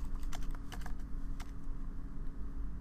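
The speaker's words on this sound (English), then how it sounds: "I type in the following query" A query is tapped out on a computer keyboard in quick, faint keystrokes over a low steady hum, clustered in the first second and a half, with no speech.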